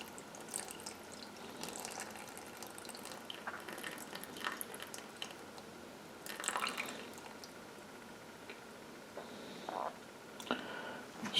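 Tepid tap water is poured into a measuring container, giving faint trickling and dripping with small clinks and knocks, quiet and close with no talking.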